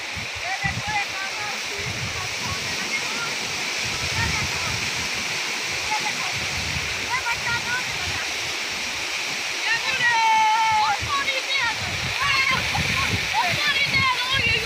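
Water rushes loudly and continuously through the Nala Deg stream near Zafarwal, a close, dense roar and splash with people talking faintly underneath.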